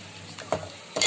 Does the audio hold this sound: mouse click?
no